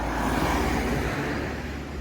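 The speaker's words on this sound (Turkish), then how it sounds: "Şimdi araba geçsin." A car passes by on a road, a steady broadband whoosh of tyre and engine noise at moderate distance, fairly faint and continuous without talk.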